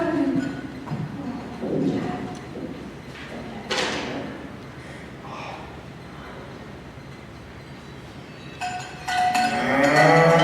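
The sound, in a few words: cow mooing in stage play Into the Woods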